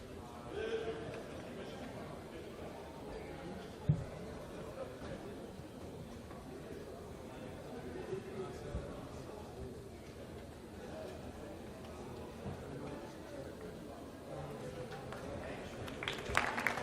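Applause and chatter fill the Jupiter Control Center after an Ariane 5 launch carrying TIBA-1 and GX5, a steady, moderate crowd clapping with talk over it throughout.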